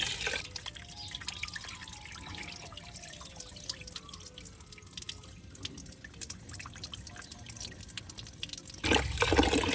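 Pearl millet being rinsed in a pot of water gives soft, continuous sloshing and dripping close by, with no talk.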